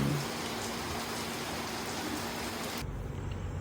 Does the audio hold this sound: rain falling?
yes